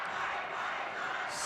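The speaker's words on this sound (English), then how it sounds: "you can hear the crowd in the background starting to pick up the tempo" A high school boys' basketball crowd in a gym, cheering and murmuring steadily as a low, diffuse roar of many voices in the background.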